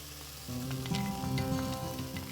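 A pan of locro, a vegetarian dish, sizzles steadily while ají amarillo paste is stirred in, with close, continuous frying crackle and soft scraping throughout and no voices.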